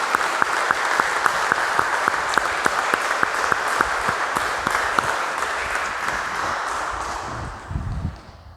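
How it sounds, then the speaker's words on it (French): A church congregation applauds during a Sunday Mass, with steady, fairly close clapping marked by a regular rhythmic beat that gradually thins and fades away near the end. "Nous allons l'applaudir très fort."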